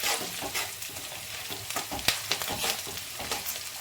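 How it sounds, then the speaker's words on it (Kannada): Cashews frying in a pan, with a steady dense crackle and sizzle broken by scattered sharper pops and the scrape of stirring, close and fairly loud, with no voices. "ಈ ರೀತಿ ಸ್ವಲ್ಪ ಚೆನ್ನಾಗಿ ಫ್ರೈ ಆಗಬೇಕು"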